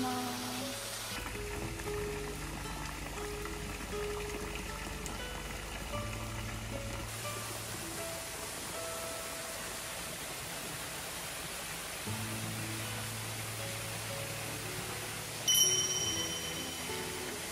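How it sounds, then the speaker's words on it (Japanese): Steady waterfall roar beside an open-air hot spring bath deep in the autumn mountains of Okukinu, Tochigi, a dense constant rush with no voices, briefly louder near the end. "女性の風呂からも滝が見えます。"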